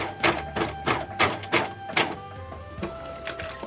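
A sewing machine stitching a T-shirt runs in a series of quick, regular mechanical pulses, close and fairly loud, then settles into a steadier whir.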